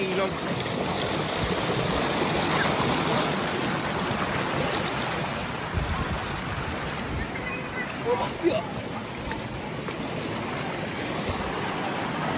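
Steady rushing water of a river current flows throughout, a broad, constant wash with a few faint splashes.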